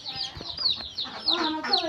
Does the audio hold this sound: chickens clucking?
yes